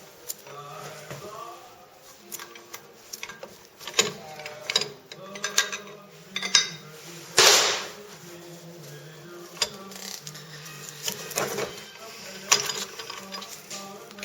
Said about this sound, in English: I'm just going to chase that brass punch in there.